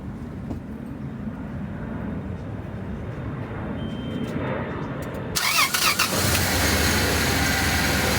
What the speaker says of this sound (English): now let's just start the engine, see if we get any drainage